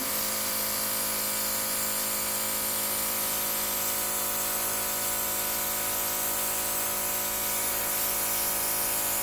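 Steady, loud hiss of a spray gun fed by an air compressor, used to touch in paintwork on a model, running continuously without a break and with no voices.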